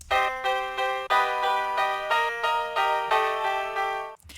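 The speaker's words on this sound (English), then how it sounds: "Next, I want to take a look at the piano that I created last time with Shape." A soft, synthesized piano patch built with the Shape plugin plays a steady sequence of sustained chords, about eight evenly spaced strikes with gentle decays, clear and alone with no voices.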